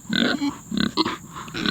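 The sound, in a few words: Idaho pasture pigs grunting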